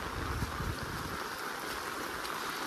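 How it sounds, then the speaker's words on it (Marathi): Steady rain falls continuously with a dense, even hiss and no pauses, close and moderately loud. "पाऊस काय थांबाचं नाव घेत नाही"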